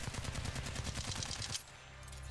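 Rapid automatic gunfire from the Apex Legends video game, a dense burst of loud shots for about a second and a half that then cuts off, leaving a quieter background.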